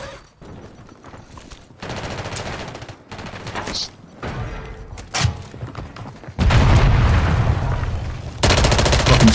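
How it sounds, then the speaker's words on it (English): Gunfire and a heavy mortar strike on a building in Call of Duty: Warzone, scattered bursts and booms building to a loud sustained barrage near the end. "They put a mortar on this building."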